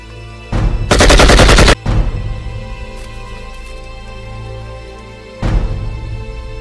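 Gunshots fired close and loud during a tense confrontation in a Filipino-language drama, with one sustained burst of rapid fire followed by a second shorter burst amid lingering room noise.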